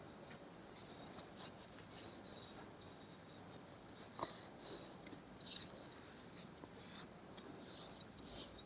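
A pen or pencil draws a number line construction on paper, giving quiet, close scratching strokes with brief pauses, no talking.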